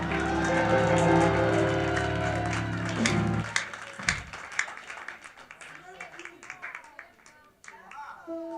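An audience at a sermon by an apostle breaks into scattered clapping after a sustained musical passage fades, the claps irregular and fairly close, mixed with a few voices.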